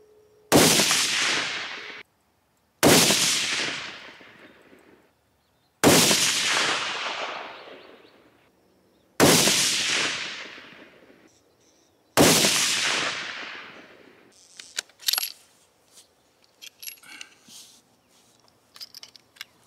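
A 6.5 rifle fires five loud, sharp shots at steady intervals of about three seconds, each one followed by a long echoing decay, then faint clicks and handling noises.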